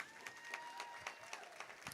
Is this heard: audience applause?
yes